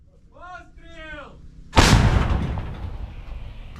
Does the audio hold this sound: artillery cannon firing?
yes